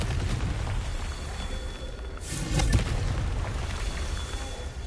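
Confringo blasting spell from the game Hogwarts Legacy, a fiery burst around the midpoint that swells above a steady roar of ambient game noise, then fades back into the rumble.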